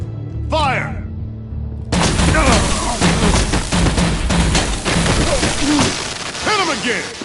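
Volleys of gunfire from soldiers in a Batman video game, dense overlapping shots and bangs erupting after a shouted command, with voices and effects mixed in throughout.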